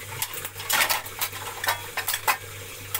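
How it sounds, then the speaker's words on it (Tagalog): Vegetables being sautéed in a pan: a utensil scrapes and clinks against the metal in irregular bursts over a soft, steady background, with no voices. "Gigisa ko guys yung itong gulay."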